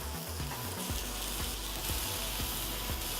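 Lamb skewers sizzling on a hot grill, a steady dense hiss and crackle with occasional soft thuds, close and continuous, no voices.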